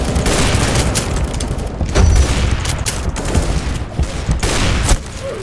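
Dense, continuous close-range gunfire in a Roblox shooter game, rapid overlapping shots and booms filling the whole stretch with little pause.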